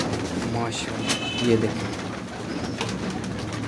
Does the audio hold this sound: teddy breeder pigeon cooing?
yes